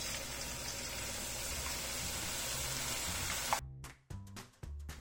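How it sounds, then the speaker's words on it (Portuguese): Shoestring potatoes fry in oil that sizzles and crackles steadily, then the frying noise cuts out abruptly and gives way to a few short clattering sounds. "Agora é só ir fritando o restante de pouco em pouco."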